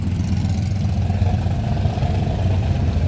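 A loud hot rod engine runs steadily at an outdoor car show, a deep continuous rumble with a slightly uneven idle, close and dominant with no talk over it.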